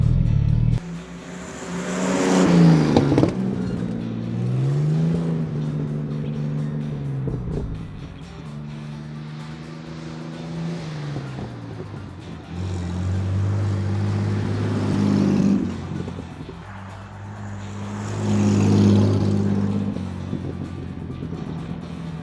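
A DeSoto car drives around an open field, its engine rising and falling through several revving passes, with a steady motor drone and shifting pitch as it accelerates and slows, no talking.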